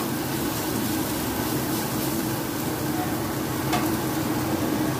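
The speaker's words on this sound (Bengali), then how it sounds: "হাফ চামচ ধনে গুঁড়ো দিয়ে সব কিছু ভালোভাবে কষিয়ে নেব" Vegetables being stir-fried with turmeric, cumin and coriander powder in a pan, a steady close sizzle with scraping stir noises running continuously throughout, no talk.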